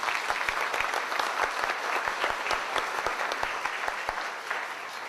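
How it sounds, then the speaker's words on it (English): Steady applause from a crowd, many hands clapping continuously and fairly loud, with no voices standing out. "She deserves some applause."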